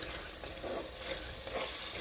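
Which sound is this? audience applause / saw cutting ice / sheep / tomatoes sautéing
tomatoes sautéing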